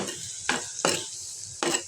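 Onions fry in a pan with a soft constant sizzle, broken by three sharp scraping strokes of a spatula stirring them, close and clear with no voices.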